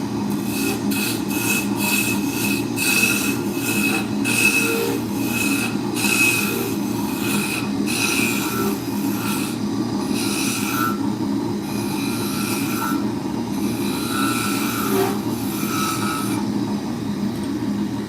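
A carbide tool cuts wood turning on a lathe while a drop spindle is shaped, giving a continuous rough scraping and rubbing over the motor hum, with regular bursts as the tool bites.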